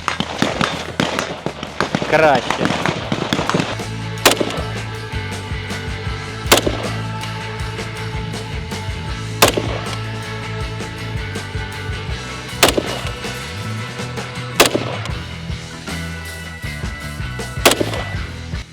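Sharp, loud shots from a Heckler & Koch HK MR223 carbine ring out one at a time every few seconds, each with a brief echoing tail, with a person speaking between shots.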